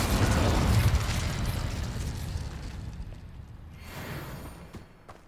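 Incendio fire spell cast in the Hogwarts Legacy video game: a loud, roaring burst of flame that opens strongly and gradually fades over several seconds, with a brief flare of crackle near the end.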